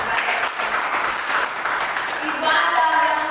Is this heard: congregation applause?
yes